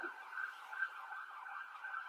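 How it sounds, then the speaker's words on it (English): A distant police siren wails steadily at a low level, holding a sustained tone with slight wavering and no other sounds. "These are police sirens, by the way"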